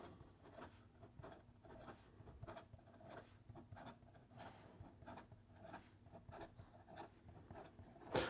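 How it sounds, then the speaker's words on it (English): Quick scratchy strokes of a Montblanc Bohème fountain pen with an extra fine nib writing fast on paper, a steady stream of soft, close, rhythmic scribbling taps and swishes. "In regard to some fast writing,"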